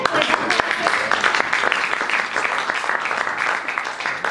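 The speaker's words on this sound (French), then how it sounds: "Vous pouvez les applaudir." An audience at a business angels session in Bangkok applauds new members stepping onto a stage, with loud, dense, continuous clapping from a full room.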